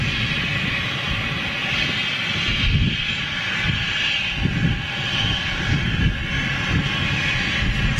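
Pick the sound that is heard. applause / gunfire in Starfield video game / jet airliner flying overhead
jet airliner flying overhead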